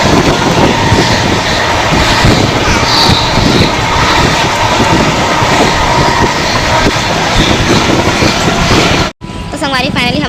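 A train at Bilaspur railway station in India rumbles and clatters loudly and continuously, close by, with voices mixed faintly into the din, before the sound cuts off abruptly near the end.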